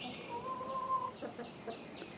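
Chickens by a chicken house cluck in short bursts, one drawn-out call followed by several quick clucks, fairly faint and close.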